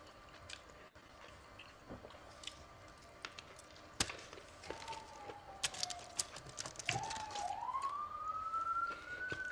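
A police siren wails faintly in the distance on a New York City street, rising and falling through the second half, behind close-up eating and chewing sounds with no speech.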